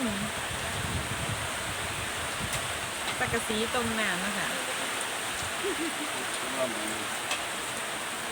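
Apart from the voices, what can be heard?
rain falling outdoors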